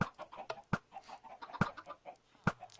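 Minecraft chickens and baby chicks cluck in a quick irregular series of short clicky clucks, with a few sharper louder pops standing out, near and clear with no talking.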